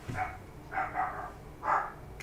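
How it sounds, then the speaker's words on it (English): A dog barking back at a distance from indoors, three muffled, fairly faint barks spaced about half a second apart. "There's another dog barking back."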